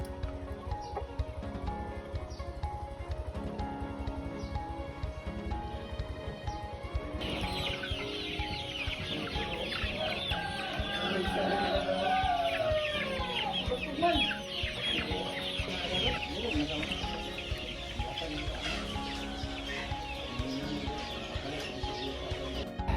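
Many breeder laying hens cluck and murmur continuously in a crowded coop, their calls overlapping against a steady background hum.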